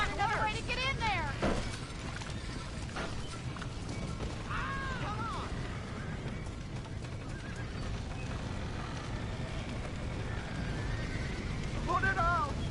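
Horses trapped in a burning barn in Red Dead Redemption neigh and whinny several times over a steady roaring background, with scattered creaks and clatter and voices shouting throughout.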